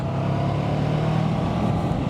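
A 2024 Honda NX500 small-displacement motorcycle engine drones steadily while riding, loud and close, with rumbling low-end and a constant wash of wind noise and no speech.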